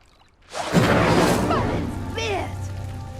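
Incendio fire spell from the Hogwarts Legacy game igniting a pyre: a sudden loud whooshing burst of flame that swells, then settles into a sustained roar with a few magical swirling tones.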